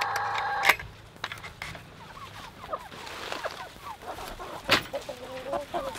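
Chickens clucking softly and intermittently while feeding on invasive water bamboo weeds outdoors, with scattered rustling and one sharp louder knock.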